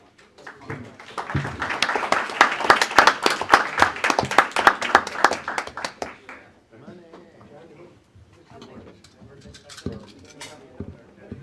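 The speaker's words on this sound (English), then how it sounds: "Another round of applause for our financial staff." A burst of applause from a small crowd at a Board of Supervisors meeting swells for several seconds, then fades into scattered claps and chatter.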